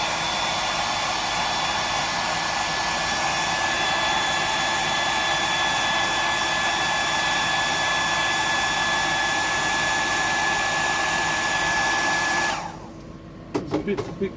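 A hair dryer blowing steadily to dry paint on a fishing lure, a loud continuous whine held for about twelve seconds before it switches off, leaving a few faint clicks and handling noises.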